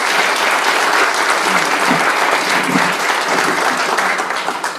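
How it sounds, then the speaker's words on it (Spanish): Loud, continuous audience applause greets a speaker at a forum marking an organisation's 25th anniversary, thick steady clapping with faint crowd murmur that tapers slightly at the end. "les voy a pedir que lo recibamos con un fuerte aplauso"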